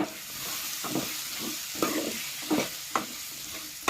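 Chopped eggplant for a sour curry sizzles and fries in a pan while a spoon stirs it in repeated scraping strokes, close up and with no voices.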